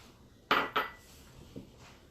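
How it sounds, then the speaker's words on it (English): Mustard seeds in a hot pan over medium-high heat give a few sharp, close pops: two in quick succession, then a softer one after a pause, against a quiet background with no talk. "dump in those mustard seeds and just cook them until they start to pop"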